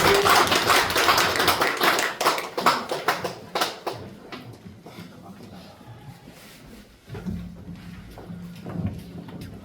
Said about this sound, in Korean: 우리 다시 한번 격려의 박수 한번 하겠습니다